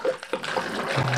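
Still water poured from a bottle into a drink shaker already holding ice, a short splashing pour with faint clinks near the start, close and fairly loud with no talk.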